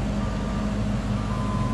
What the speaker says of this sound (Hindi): ये जो ट्रक देख रहे हैं